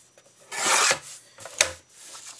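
A blade trimming paper to size for an envelope makes a close raspy scraping stroke, followed by softer rubbing and a short sharp slice.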